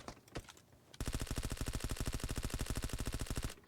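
Rapid automatic gunfire from a video game match, a loud sustained burst of evenly spaced shots lasting several seconds after a brief quieter opening with scattered sounds.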